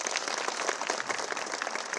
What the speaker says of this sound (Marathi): महाराष्ट्र पोलिसांसाठी टाळ्या झाल्या पाहिजे